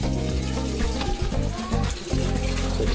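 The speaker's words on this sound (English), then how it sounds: "Once again, skillet. So I'm gonna rinse it." A hot skillet is rinsed under a running kitchen tap, with water gushing and splashing against the metal in a steady, close stream that breaks briefly once before continuing.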